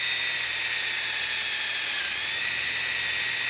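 Drill bit cutting through sheet metal while building an Art Deco lamp, a continuous close, loud high whine with a slight dip in pitch partway, steady throughout and no voices.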